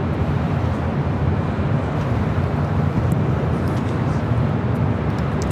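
A jet airliner takes off from runway 24 left at LAX, a steady broad roar of engine and rushing noise holding loud and even throughout, with no distinct voices standing out.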